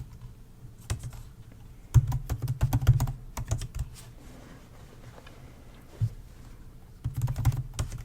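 Terminal commands are typed on a computer keyboard in close, clicking bursts of keystrokes, with short pauses between the flurries and no talking.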